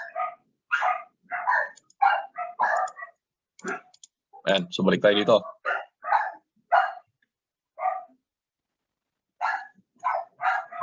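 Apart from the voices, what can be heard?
dogs barking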